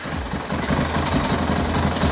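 An Arctic Cat 650 H1 ATV engine idles close by, a steady low rumbling drone with a fast, even pulsing beat and no voices over it.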